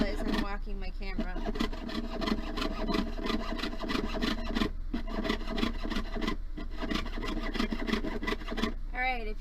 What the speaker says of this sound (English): This is a saw blade. It will cut you.